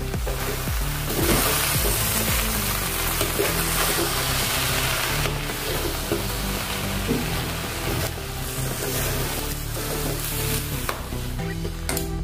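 Sizzling and stirring of pongal khichdi in a pan after rice, dal and fried curry leaves go in, a steady loud fry hiss with scraping spoon strokes throughout.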